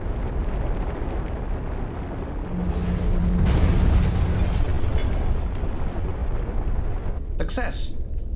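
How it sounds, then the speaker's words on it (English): A big explosion in the Blood Omen 2 video game, set in an industrial quarter: a loud sustained roaring, rumbling blast that swells midway and trails off into debris and crackling. "Big explosion."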